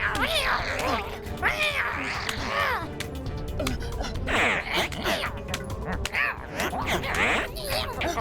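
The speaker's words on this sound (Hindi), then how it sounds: "पारा की साइबॉग बिल्ली।" Animated cyborg pet cat meowing repeatedly in rising, warbling cries, loud and close, amid shouting voices and busy cartoon background sound.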